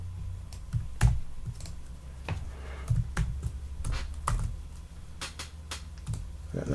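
Fingers type on a computer keyboard in a rapid, uneven stream of close, crisp key clicks, with a few sharper taps standing out and no talking.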